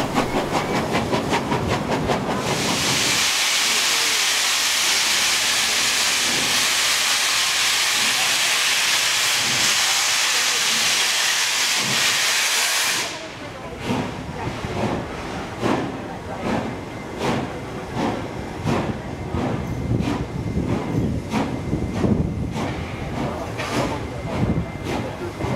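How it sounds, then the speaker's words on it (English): Steam locomotive 3642 pulling into Hurstville station, a loud sustained steam hiss that cuts off, followed by rhythmic wheel clatter and rumbling carriages as the train slows. "The locomotive is now slowing down and be pulling its way into Hurstville Station to pick up more passengers"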